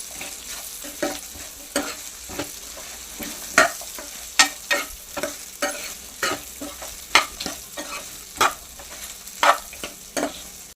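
Okra (bendakaya) frying in a pan is stirred with a spatula, giving a dozen or so sharp scraping strokes at an irregular rhythm over a continuous close sizzle, with no talking.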